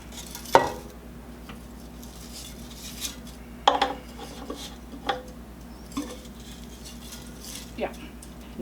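Tongs clatter sharply against an air fryer basket while breaded crispy pork chops are turned, a few distinct metallic knocks spaced apart over a steady fan hum, with faint talk in the room.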